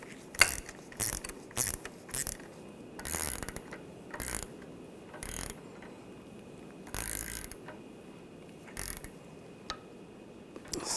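Ratchet tightening the strut nut on a 2007-2013 BMW X5 front strut assembly, a quick series of close clicking ratchet bursts with short pauses, faint and mechanical.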